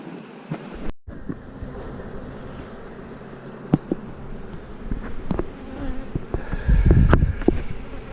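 Honey bees swarm and buzz around an open hive during a queen cell check, a steady close drone with sharp passes and a louder, denser burst toward the end.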